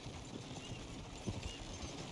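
Soft, irregular hoofbeats of a horse in the video game Red Dead Redemption 2 clop at a distance beneath a constant hiss of ambient noise.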